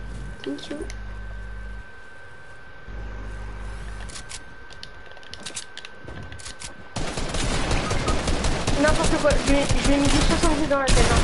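Gunfire in a shooting video game arrives as a dense, rapid stream of shots in the later half, following quieter stretches with a steady tone and a low hum, while players talk over it.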